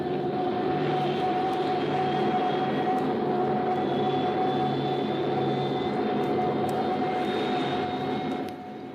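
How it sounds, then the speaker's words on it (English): Jet bombers flying miles overhead, heard in a 1955 civil-defense radio dramatization: a steady, distant, continuous engine roar that holds throughout and drops off slightly at the very end. "You are listening to one of several jet bombers miles in the air."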